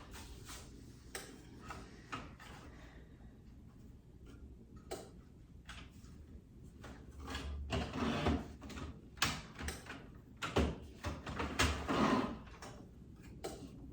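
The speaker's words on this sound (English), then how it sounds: "got my printer going" A sublimation transfer printer runs, giving off faint irregular ticks and mechanical clicks that build into busier rattling bursts toward the end, quiet and close with no talk.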